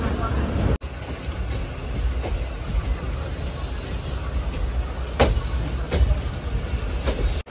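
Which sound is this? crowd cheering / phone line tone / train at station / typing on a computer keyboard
train at station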